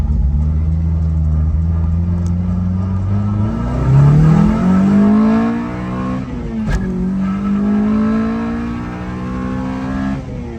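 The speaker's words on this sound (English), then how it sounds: "First to second gear pull." K20-swapped Honda Civic pulling hard through first gear and shifting into second, the engine revving loud and close with a rising howl, a brief dip at the shift, then climbing again.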